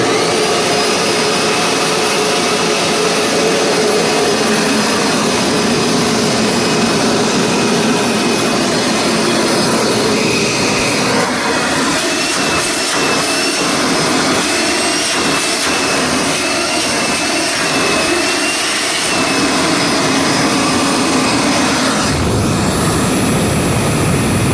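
A 2003 Dirt Devil Extra Light bagless upright vacuum cleaner runs continuously and loudly close by, a piercing high-pitched motor whine with a steady roaring airflow and shifting tone as it is moved.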